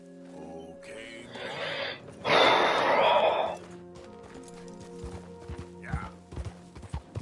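Horse hooves clip-clop in Red Dead Redemption 2, a few sharp knocks spaced out toward the end after a louder burst of noise, with a brief spoken word.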